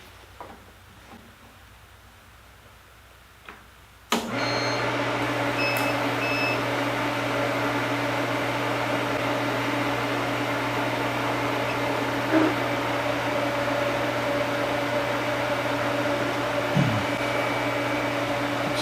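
A TIG welder repairs cast iron using cast iron filler rod. After a sharp start it gives a steady, loud electrical hum and buzz that runs unbroken for about fifteen seconds.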